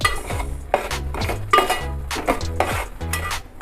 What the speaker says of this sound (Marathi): हे पूर्ण आपल्याला मिश्रण करून घ्यायचं आहे